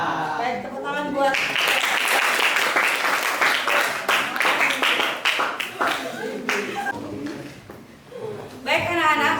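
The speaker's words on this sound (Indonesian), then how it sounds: "Baik, tepuk tangan buat" Classroom students applaud after group presentations, a dense burst of clapping from many hands that goes on for several seconds, then thins to scattered claps and picks up again near the end, with voices mixed in.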